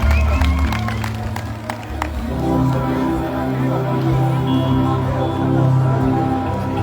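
A festival audience at Ait Iazza claps and cheers during a live evening concert, dense steady applause mixed with crowd noise, with voices rising over the clapping.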